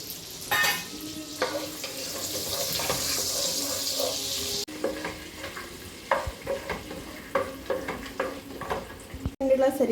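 Whole spices, cinnamon, cardamom, cloves and star anise, sizzle in hot oil, a steady crackling fry with clinks and stirring scrapes, loud and close.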